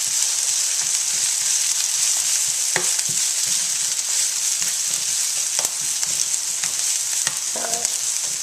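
Garlic frying in a pan for a vegan scramble, a bright constant sizzle with occasional clicks and scrapes from stirring, close and steady without speech.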